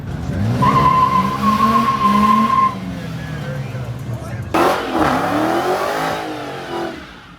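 A 300 launches and revs hard at the Woodward Dream Cruise, a loud engine roar joined by a long tire squeal and skidding, then a second harsh burst of revving, with people talking over it.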